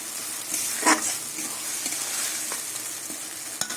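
Spice paste of ginger-garlic paste and green chili frying in oil while being stirred, with a steady close sizzle and a sharp scrape of the spoon against the pan near the start.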